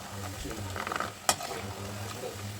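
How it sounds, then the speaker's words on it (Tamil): Seedai dough balls with sesame roasting slowly in a pan, giving a soft continuous sizzle with light stirring scrapes and one sharp clink of a utensil near the middle. "மெதுவாக பொறுமையாக கலர் மாறுற அளவுக்கு வறுத்துட்ருக்கணும்"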